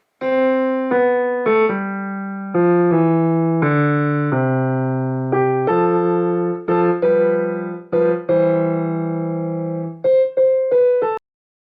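A piano plays a sustained bass-register line of Joy to the World, steady separate notes ringing one after another with no voices, loud and close.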